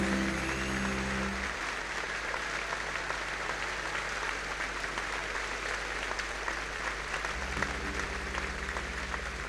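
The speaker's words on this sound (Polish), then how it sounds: "Duże brawa dla Państwa." An audience at a concert in Poznań's Arena in 2001 gives dense, sustained applause. A large crowd claps steadily for several seconds, with soft tonal music sounding at the start and again near the end.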